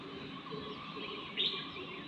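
One brief high bird chirp rises out of a soft, steady outdoor hum, faint and somewhat distant.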